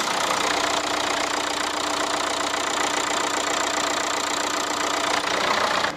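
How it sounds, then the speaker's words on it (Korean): A Renault QM3 small SUV's diesel engine idles with the hood open, a steady, even mechanical hum with a faint rhythmic clatter, close up and unbroken throughout. "QM3의 엔진 소리 한번 들어보실 수 있었는데요"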